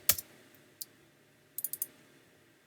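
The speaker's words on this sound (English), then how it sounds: "I'm just going to type in ART245P2" Sparse key clicks on a computer keyboard as a short file name is typed, a few isolated taps, then a quick cluster of four clicks, faint and close in a quiet room.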